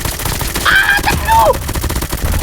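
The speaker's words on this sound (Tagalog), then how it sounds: "Bumabaril-baril dito sa akin, pre." Video game gunfire rattles in continuous bursts throughout, loud and dense, while a player shouts a word over the shooting.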